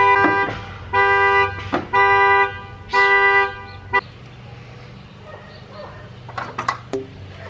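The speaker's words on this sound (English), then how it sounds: "Yes, that's a car alarm." A car alarm sounds three loud, evenly spaced honking blasts nearby, each about half a second long, followed by a brief chirp and quieter background noise.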